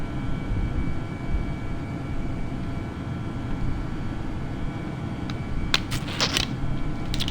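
Airbus A318 jet engines climbing toward cruise altitude in Microsoft Flight Simulator 2020, a steady loud cabin drone with low rumble throughout and a few brief higher clicks near the end.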